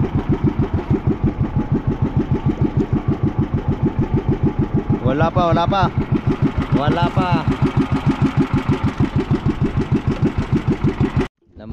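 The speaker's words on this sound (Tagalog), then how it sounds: "Namatay ang makina kaya kailangan paandarin." A boat's motor that had stalled chugs back to life in a steady, loud, rapid putter close by, with a man's short remark partway through before the engine abruptly cuts out near the end.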